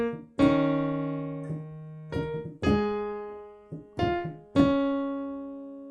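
Piano playing part three of a song's verse, a slow, simple melody of single struck notes and a few low bass tones, each note ringing and decaying, clear and alone.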